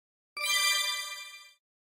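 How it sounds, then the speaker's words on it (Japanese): A single strike of a peace memorial bell rings out clear and bright, its metallic tone sustaining briefly before fading out, alone in silence. "いずれも倉敷市の東伊総さん、78歳と、神岡、有近さん、76歳が、鐘を鳴らしました。"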